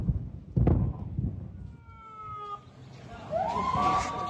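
Ambulance sirens wail as vehicles arrive at Al-Aqsa Hospital in Gaza, rising and sliding tones emerging over a busy street rumble and a brief loud thump, growing nearer toward the end.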